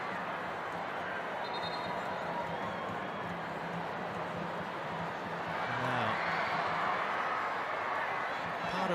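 Stadium crowd at a Matildas v Canada international friendly football match in Sydney, a continuous broad murmur of a large evening crowd with a swell near the end, commentary voices mixed in.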